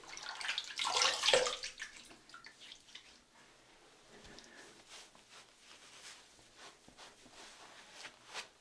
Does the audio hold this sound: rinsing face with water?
yes